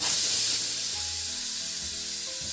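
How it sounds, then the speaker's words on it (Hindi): A pressure cooker cooking khichdi vents with a steady loud hiss of escaping steam, held continuously and close for a couple of seconds without speech. "ये देखिए सीटी हो चुकी है।"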